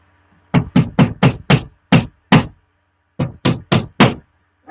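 Sharp hammer blows strike in a quick series of seven, a brief pause, then four more, each a solid, close knock.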